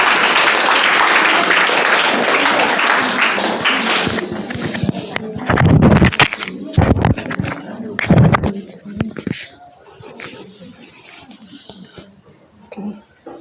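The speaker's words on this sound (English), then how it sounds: "with a round of applause, let's invite our nurses to give us a nice talk" Audience applause welcoming nurses at a Menstrual Hygiene Day event at Akyin Senior High School, a dense, loud wash of clapping that thins after about four seconds, with louder thumps and murmuring voices as it fades.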